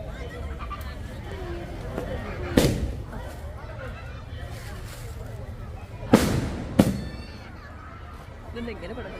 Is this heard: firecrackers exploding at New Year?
yes